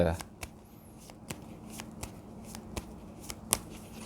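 Tarot cards being shuffled during a Thai fortune-telling reading, a soft papery rustle broken by repeated sharp riffles and snaps, close and fairly quiet with faint background noise.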